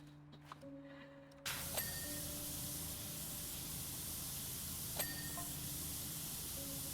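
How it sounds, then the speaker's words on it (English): Steady broadband hiss of a pressure washer spraying in PowerWash Simulator 2, starting abruptly and running continuously, with a few faint tonal game chimes and beeps over it; no talking. "that gentle white noise ambience"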